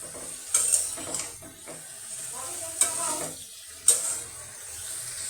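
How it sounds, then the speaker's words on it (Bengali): Fish frying in a pan with radish and eggplant, a steady close sizzle with several sharp utensil scrapes and clanks as the pieces are gently stirred and turned. "আমি ভেজে নিয়ে সিদ্ধ করার মতো করে ভাজছি।"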